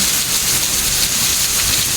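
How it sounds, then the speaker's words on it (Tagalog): Heavy rain falling in Singapore makes a short stretch of steady, close, even hissing with no variation and no voices. "Relaxing, raining sound."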